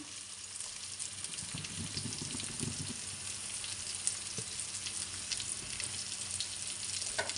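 Chicken pieces with chicken masala and chili powder fry on a low flame, giving a soft, steady sizzle with a few stirring scrapes near the start and no speech.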